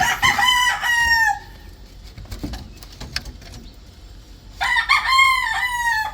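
Two loud rooster crows ring out close by, one at the start and one near the end, with faint clucking and scratching in the quiet between.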